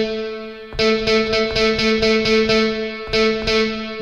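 A sustained synth drone cut by a rhythmic series of sharp, reverb-soaked hits in Logic Pro, the echoing reverb tails panned between left and right and washing out behind each one.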